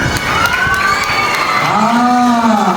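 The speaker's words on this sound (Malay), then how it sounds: "Okey, berikan tepukan." Loud crowd cheering and shouting with some clapping at a school retirement ceremony as a surprise gift is presented on stage, excited voices rising over scattered applause.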